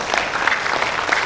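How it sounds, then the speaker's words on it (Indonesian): A seminar audience at a national church retreat in Bali breaks into brief, fairly loud applause, a thick patter of many hands that holds steady for about a second. "Tepuk tangan untuk kalian semua."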